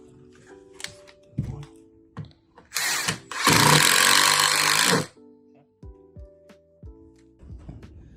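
Screws going back into a door hinge while a jammed door is being fixed: scattered clicks and taps, then a loud buzzing burst lasting about two seconds, with more light clicks afterward.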